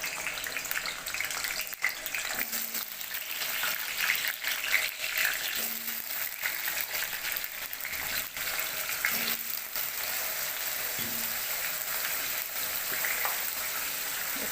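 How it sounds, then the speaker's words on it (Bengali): Cut potatoes frying in hot oil in a wok for a Bengali village-style chicken curry, a steady close sizzle with occasional stirring scrapes, no voices. "এবার চিকেনের জন্য ধুয়ে কেটে রাখা আলুটা কড়াইতে দিয়ে দিব। ভালো করে লাল লাল করে ভেজে নেব।"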